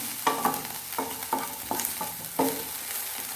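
Onions fry in a pan for potli samosa filling under a soft sizzle, with a series of distinct scraping stir strokes about every half second to second.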